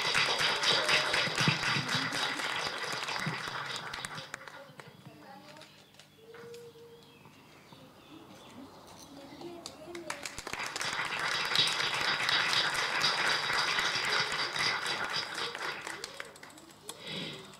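A crowd applauds warmly at a 2021 school graduation ceremony in San Vicente de Tagua Tagua, Chile, with two long bursts of steady clapping separated by a quieter stretch where a voice speaks and pigeons coo nearby.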